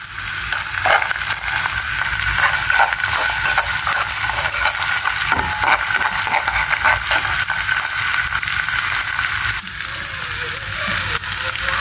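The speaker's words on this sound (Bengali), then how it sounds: "এই জন্য আমি হলো মশলাটাকে একটু কষাই নেব। এরপরে হচ্ছে হলুদ আর মরিচের গুঁড়ো দিয়ে দেব।" Spices fry loudly in a pan with turmeric and chili powder, being cooked down with salt in a home kitchen. A dense, continuous sizzle lasts throughout, broken by occasional spoon scrapes and stirring, with no speech.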